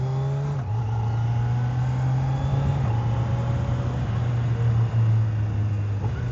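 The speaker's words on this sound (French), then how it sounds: "je sais pas ce que Kawasaki ont fait là, mais ils ont fait un super beau son à la moto" A stock Kawasaki motorcycle engine holds a loud, close, steady drone with a slight early dip in pitch, heard alone without speech.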